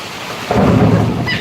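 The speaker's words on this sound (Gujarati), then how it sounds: "વીજળી પડી" A loud, close rumble of thunder rolls in over a steady hiss of rain during a rainstorm in Surat.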